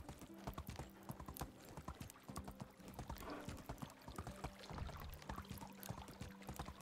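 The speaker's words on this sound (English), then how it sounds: "This is much better riding the horse" Steady horse hooves clip-clopping at a riding pace in the medieval survival game Medieval Dynasty, a continuous rhythmic patter of soft thuds, fairly quiet, with no talk.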